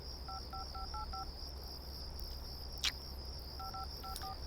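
A telephone number being dialed: two quick bursts of touch-tone keypad beeps, five tones then a pause and four more, fairly clear over a steady background hiss and a faint insect-like whine, with no talking.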